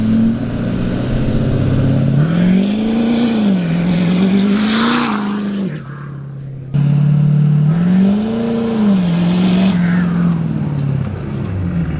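A truck engine revs hard during a dirt drag racing test, loud and close, its pitch climbing and falling in two long pulls separated by a short drop in level.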